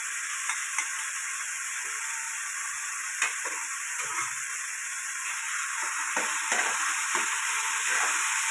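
Ginger garlic paste hits a hot pan for a homemade veg burger, setting off a steady, close sizzle and frying hiss with scattered light ticks and pops throughout, no voices.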